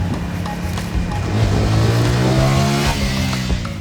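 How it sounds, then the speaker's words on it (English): A BS-VI TVS Apache RTR 200 4V motorcycle engine revs hard and steadily, a loud close drone with its pitch climbing through the mid-range and easing off again, with no voices. "The engine still loves to rev and comes alive with a solid mid-range."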